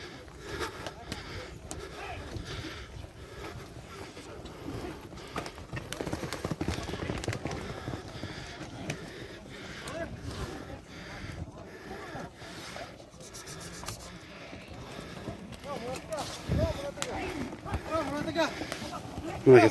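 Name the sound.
horse galloping, hooves clip-clopping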